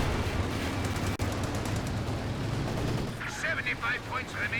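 An AVRE tank in a World War II strategy game fires a shot through a building, a sharp crack near the start amid constant battle noise of gunfire and explosions, with fainter chatter later.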